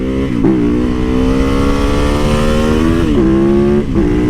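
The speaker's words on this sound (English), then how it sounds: "50 miles per hour right here. And this bike rips to it in no time." Triumph Bobber motorcycle accelerating hard, a loud close engine roar climbing in pitch through the gears with brief dips at each shift.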